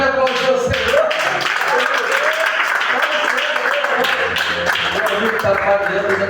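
Church congregation claps loudly and steadily for several seconds, a dense, continuous wash of applause with voices mixed in.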